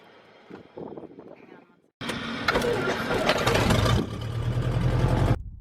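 A small propeller plane engine cranks with a few faint sputters and then catches abruptly, running loud and steady close by before cutting off.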